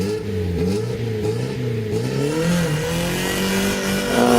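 A Peugeot pickup rally car pulls away on a hillclimb, its engine revving hard through rising and falling pitch sweeps as it climbs through the gears, loud and fairly close throughout.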